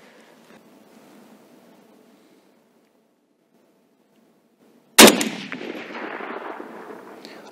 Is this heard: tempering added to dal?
no